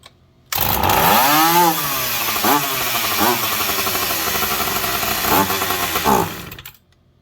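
A McCulloch PM700 chainsaw with a fuel-line leak fires up and runs for about six seconds, revving up and down in several surges near and loud, before cutting off abruptly.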